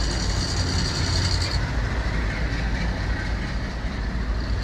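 A petrol tanker train rolls along the railway close by, a steady loud broadband rumble with clattering that lasts throughout, with no talk over it.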